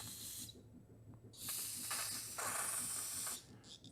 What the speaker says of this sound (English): Get a hole through it, put some carb cleaner through it.